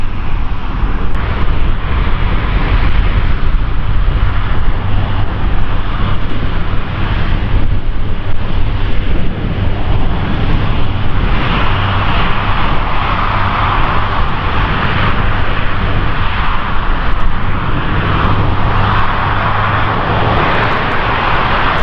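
Airbus A350 airliner flying at the Farnborough Airshow, its jet engines roaring loudly and continuously close overhead, with some wind buffeting on the microphone.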